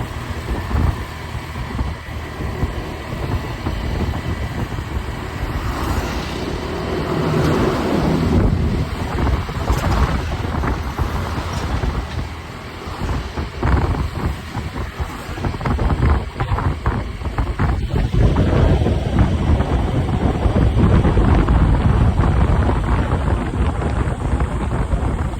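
Strong wind roars over the microphone while a motorcycle cruises along a scenic coastal road in Quezon Province, Philippines, producing a constant, heavy buffeting rush with no break.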